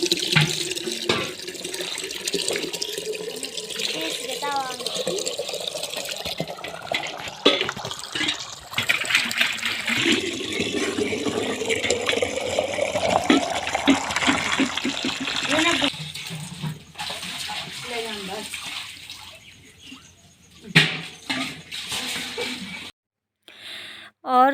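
Water gushes steadily from a hose at a village home, a loud, close, continuous rush with splashing and clattering, under talk, easing and thinning toward the end.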